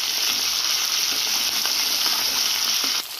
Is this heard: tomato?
yes